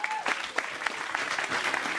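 Applause from a live audience, a brief burst of many hands clapping with scattered sharper claps and a faint voice briefly underneath.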